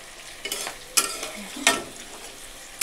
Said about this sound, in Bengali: এখানে এবার আমি অ্যাড করে দিয়েছি ক্যাপসিকাম। পেঁয়াজটা একটু হালকা হালকা ভাজা ভাজা হয়ে গেছে